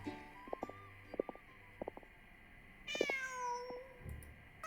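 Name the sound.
cat meowing in Genshin Impact video game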